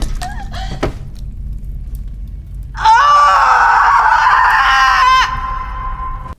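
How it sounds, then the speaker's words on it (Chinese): A woman lets out a long, loud, anguished scream after cutting off her own toe in a film scene, a sustained, strained wail lasting a few seconds after some brief rustling. "一刀下去，脚趾断裂，撕心裂肺的惨叫声回荡在屋内"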